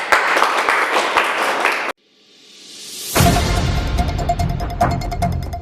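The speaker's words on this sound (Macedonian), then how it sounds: "Аплауз!" Applause from a studio audience at a Macedonian TV quiz show breaks out loudly, then drops to near silence before a rising jingle-like swell leads into sustained clapping and cheering.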